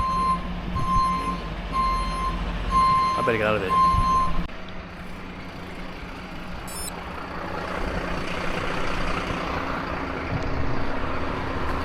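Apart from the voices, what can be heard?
bin lorries, garbage trucks with reversing beeps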